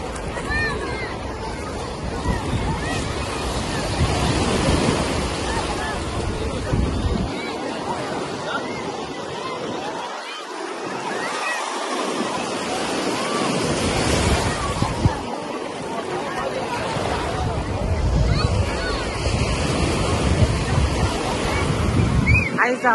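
Sea waves roll and crash on the beach at Alexandria, with heavy wind buffeting the microphone, loud and continuous surf rising and falling, and a brief calmer lull midway.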